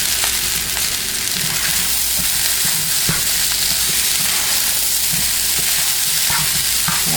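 Shrimp fried rice being stir-fried in a pan, a loud continuous sizzle with steady scraping and tossing of the rice throughout.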